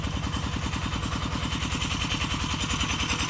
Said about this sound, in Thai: เครื่องยนต์ไดเล็กแปดแรง เป็นของ RT นะครับ